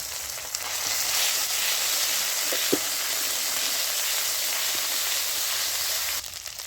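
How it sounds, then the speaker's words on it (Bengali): Ginger-garlic paste sizzles in hot oil spiced with turmeric, cardamom, cloves and cinnamon, a loud, steady hiss close up with a couple of faint clicks, easing off at the end. "তো এবারে আমি আদা রসুনের বাটাটা দিয়ে দিচ্ছি।"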